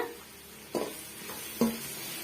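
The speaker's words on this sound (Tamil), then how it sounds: "இது எல்லாம் சேர்த்துட்டு ஒரு முறை நல்லா வந்து மிக்ஸ் பண்ணி கொடுத்துக்குங்க" A spoon scrapes and stirs potato rice in a pan after chili powder and garam masala go in, with two distinct stirring strokes over a faint sizzle and no talking.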